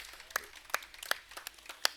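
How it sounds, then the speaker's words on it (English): An audience at a speaking event in Cedros gives a thin round of applause, a few light, scattered claps at moderate distance. "Sheldon Cann and Renison Jeffrey, you all deserve a round of applause"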